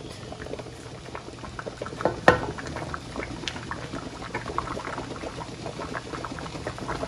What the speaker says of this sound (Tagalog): Pinakuluan muna natin yung ating pasta para lumambot.